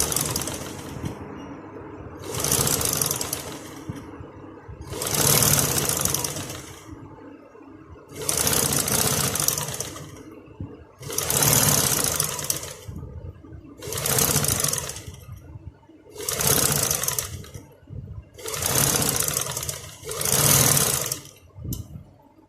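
A sewing machine stitches folded fabric for a plain kurti, running in about eight loud, close bursts of rapid mechanical whirring separated by brief pauses.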